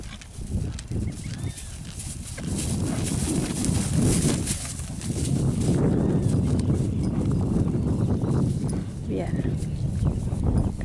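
A tame, working pampa (pinto) horse moves on open ground, its hooves clip-clopping steadily under near, continuous talk from a man.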